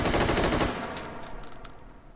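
An AK rifle fired from the hip in the VR game Malyuk rattles off a rapid burst of shots at the start, then trails off into echoing tails and quieter room sound.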